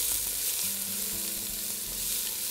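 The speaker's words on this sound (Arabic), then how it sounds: "دول بحط عليهم البصل والثوم علشان هسوي فيهم الجمبري." Onion and garlic fry in corn oil with a steady hiss and sizzle, quiet but continuous and close, with faint stirring and no voices.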